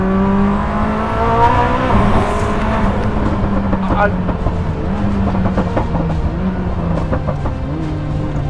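A Koenigsegg Jesko with nearly 2,000 horsepower accelerates hard on a test track, the engine note rising and climbing through gears with boost, loud and close from inside the car.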